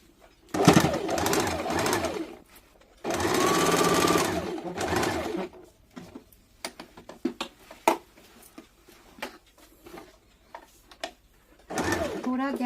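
A sewing machine stitches the side seam of an umbrella baby frock up to the waist, running in two long steady bursts and starting a third, with someone talking in the pauses between.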